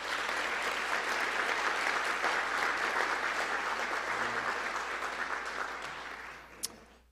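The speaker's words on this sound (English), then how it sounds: "Let's offer those folks a round of applause." Banquet guests at a university honors dinner clap in a warm sustained round of applause, steady and moderately distant, tapering off toward the end.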